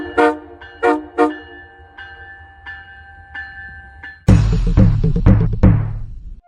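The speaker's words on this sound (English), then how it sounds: "The Siemens ALC-42, or more commonly referred to as a Charger, is a diesel-electric locomotive manufactured by Siemens designed for long-haul routes" An Amtrak Siemens ALC-42 Charger diesel-electric locomotive sounds three short horn toots and a sustained horn tone, then a loud rumbling rush of the train passing close by.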